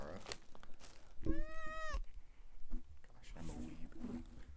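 A pet cat lets out one drawn-out, rising-and-falling meow nearby, while people talk before and after it indoors.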